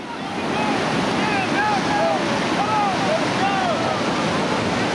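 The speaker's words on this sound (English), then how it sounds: "Blasting through the reactionary waves, all right." A raft blasts through white-water rapids and reactionary waves on the Lower New River in West Virginia, with loud, continuous rushing and churning water close by and faint higher calls over the roar.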